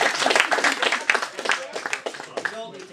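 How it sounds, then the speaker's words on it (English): Audience applause after a club chairman's final speech, a steady dense patter of many hands clapping with some crowd noise mixed in, continuous through the moment. "don't need to clap for the next guy"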